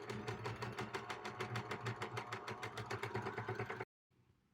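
A sewing machine chain-stitches quilt fabric pieces for a Sawtooth Star block, running in a fast, even mechanical rhythm up close before stopping abruptly into near silence.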